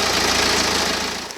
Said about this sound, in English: Let's start him back up and I'll let him idle for 10 minutes.